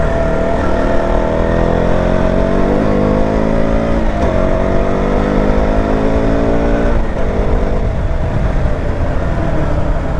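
A car engine labouring up a steep hill in second gear, revving loud and close with rising pitch sweeps as the driver accelerates, continuous throughout with no talk.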